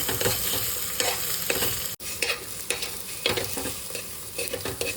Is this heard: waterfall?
no